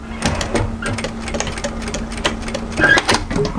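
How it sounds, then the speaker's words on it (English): A sewing machine running a short burst of stitches across fabric binding, a rapid even mechanical whir and tapping, close and loud, with no voices. "I'm just going to sew a couple of stitches on top of that binding just to hold that into position"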